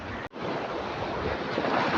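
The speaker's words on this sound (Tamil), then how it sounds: "அலைகள் வந்து நல்ல வேகமாக வந்து அடிக்கிறது" Rough sea surf crashes steadily against the shore at Keerimalai, a loud, continuous roar of breaking waves with wind buffeting the microphone and a brief dropout near the start.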